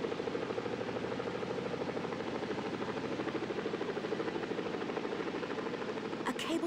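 A rescue helicopter approaches with a steady, loud rotor throb and engine drone that holds through the whole stretch, and a faint click or rattle lands near the end.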